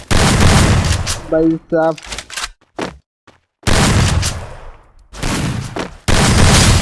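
Rapid bursts of gunfire from the battle-royale video game Free Fire, loud and dense, recurring in several long volleys separated by gaps, with someone briefly speaking between them.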